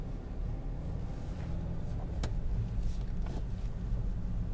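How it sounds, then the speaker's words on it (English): A car passes on the road beside a parked 2008 BMW 530d M Sport, with a low road rumble and a brief swelling whoosh over a steady background hum. "there's a car coming"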